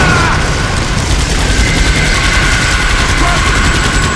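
Dense, continuous gunfire from the video game Earth Defense Force 2017, loud and unbroken, with rapid overlapping shots blending into a constant roar for the whole stretch.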